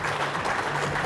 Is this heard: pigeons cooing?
no